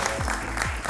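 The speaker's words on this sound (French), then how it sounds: "Je vais vous demander de l'applaudir" Audience applause in a French talk show studio, a dense steady wash of clapping filling the short moment without speech.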